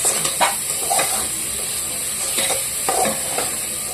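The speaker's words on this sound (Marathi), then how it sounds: "लसूण घातलाय, चांगलं परतून घ्यायचंय" Garlic sautéing for a mutton curry after ginger has gone in, a steady close frying hiss broken by repeated scraping stirs of the spatula, with no talk.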